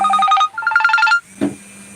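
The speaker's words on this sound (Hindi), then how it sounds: "पापा का फोन आ रहा है।" A telephone rings with an incoming call, giving a loud electronic ringtone of rapid repeating tones in two short bursts, then a brief thump and a low steady hum.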